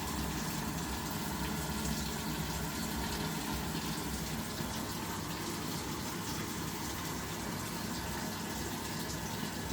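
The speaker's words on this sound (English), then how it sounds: "So it has started feeding with water." Samsung top-loading washing machine filling with water, a steady broadband rush of inflowing water running continuously and fairly close, with no talking.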